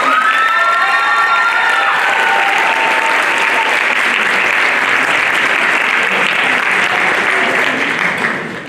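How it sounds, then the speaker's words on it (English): Loud, dense applause and cheering from a crowd at a school National Honor Society and sixth grade pinning ceremony, with high shouts and whoops early on over sustained clapping that fades slightly at the end. "So a round of applause for Dr. Pulamanis."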